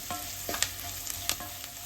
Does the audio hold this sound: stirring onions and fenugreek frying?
yes